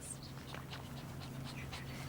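A dog pants and faintly whimpers in rapid rhythmic breaths, quiet and close, with no talking over it.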